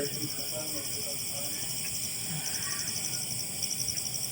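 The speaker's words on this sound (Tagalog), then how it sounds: "pakinggan yung mga ka-idol yung mga tinig ng mga kuliglig dito" Crickets chirping at night in a very quiet rural spot near a lit power pole, a steady high trill continuing through the whole stretch over faint background noise, with soft voices murmuring underneath.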